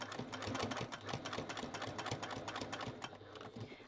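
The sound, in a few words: sewing machine top stitching along a fabric edge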